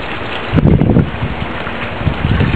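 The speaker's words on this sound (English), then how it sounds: "It's kind of windy out today." Steady wind buffeting the microphone, a broad rumbling rush with a stronger gust near the start, continuing throughout with no voices.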